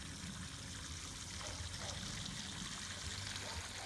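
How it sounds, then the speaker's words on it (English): A creek flows near a greenhouse garden, a faint, steady watery rush that continues without a break under a low background rumble. "Not sure if you hear the creek"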